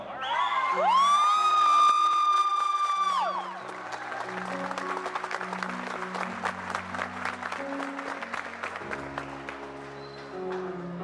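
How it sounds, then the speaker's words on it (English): Applause and whoops from an audience cheering cadets at a boot camp ceremony, rising after a sustained piano note and continuing as steady clapping with scattered shouts, moderately loud. "Let's give them a round of applause."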